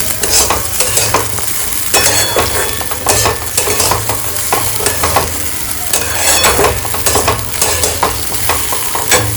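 Balls and dry fruits fry in a pan with a loud, continuous sizzle, while a utensil scrapes and stirs rhythmically against the pan throughout.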